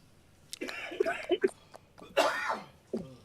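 A couple of short, breathy coughs come close to the mic, with some quiet murmuring around them.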